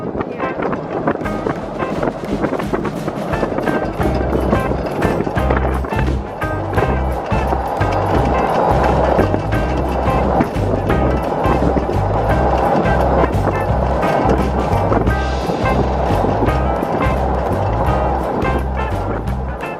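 A stock 2014 Club Car electric golf cart fitted with a Plum Quick Bandit motor upgrade drives along with a steady electric whine and loud rolling rumble, buffeted by wind noise throughout.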